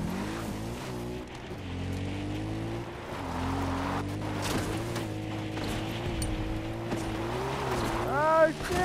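A vehicle in Far Cry 4 driven unsteadily, its engine droning with shifting pitch and tires squealing into a skid near the end, with a voice talking over it.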